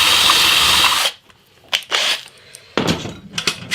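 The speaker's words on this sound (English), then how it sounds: "in order to fit those controls I need to drill out the holes" Power drill boring out holes to fit controls, a steady, loud whirring burst of about a second followed by several shorter, separate bursts with brief quiet gaps between them.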